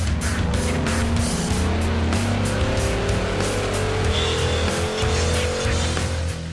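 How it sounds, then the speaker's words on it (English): A Dodge Charger SRT8 on a dyno during a baseline run roars with a loud, sustained engine drone and a faint rising whine, with no pauses. "before we get started, we're going to do some baseline runs on the dyno to see what power we're making"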